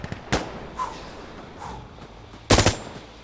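Light machine gun fire in Insurgency: Sandstorm, a game battlefield: a sharp shot, a couple of faint distant pops, then a loud, close burst of rapid automatic fire.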